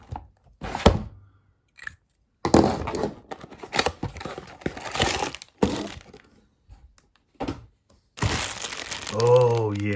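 Tape being peeled and torn off a cardboard toy packaging box for an Action Force Special Ops trooper figure, a run of close, irregular crackling and ripping bursts separated by short pauses, with some crinkling, and a voice speaking near the end.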